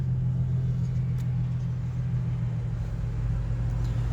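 Blower motor of an Infiniti FX35 running after replacement, giving a steady, even low drone with a broad airy hiss on top, continuous and unchanging throughout with no voices.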